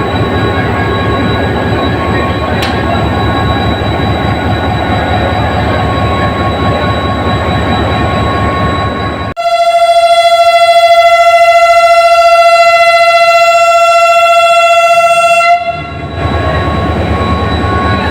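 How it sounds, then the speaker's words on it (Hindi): The Mehran Express, led by an HGMU 30R diesel locomotive, idles with a loud engine rumble, then sounds a long, sustained horn blast of about six seconds before the rumble resumes, at Karachi City railway station. "तो जनाब ये HGMU 30R की लीड के साथ मेहरान एक्सप्रेस तैयार खड़ी है।"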